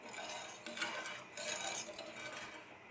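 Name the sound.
stirring sugar juice in a pan on the stove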